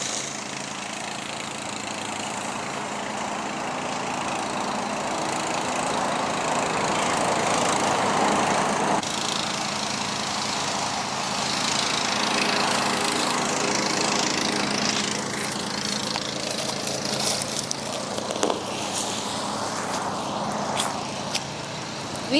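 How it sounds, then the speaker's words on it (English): A lawn mower runs steadily for a long stretch, its engine droning loud and close with small shifts in pitch as it mows, no voices over it. "He enjoys mowing things down."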